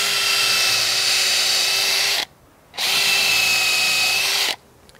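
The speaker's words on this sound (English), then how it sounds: "I'm just going to go ahead and pre-drill those with my countersink drill bit" A power drill with a countersink bit whirs loudly in two steady bursts of about two seconds each, pre-drilling pilot holes in sawhorse pieces, separated by a brief silence.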